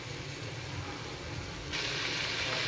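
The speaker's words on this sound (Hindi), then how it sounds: "तीन मीडियम साइज़ के टमाटर ये मैंने इसके अंदर डाल दिए हैं। इनको भी हमने अच्छे से इसके अंदर मिक्स कर लेना है" Three medium-size tomatoes stirred into hot masala in a pan give a steady, soft sizzle and faint scraping, growing slightly brighter and louder toward the end.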